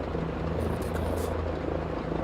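Steady droning engine of a light general aviation aircraft in the X-Plane flight simulator during takeoff, a continuous loud hum with low harmonic tones, alone without talk.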